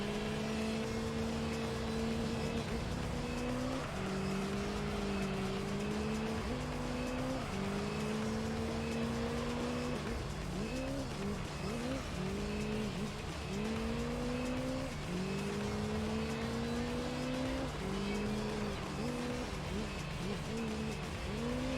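Engine of an LMP Dragon race car in Gran Turismo 3, loud and steady, its pitch climbing repeatedly and dropping at each upshift every few seconds, with faint tire noise underneath.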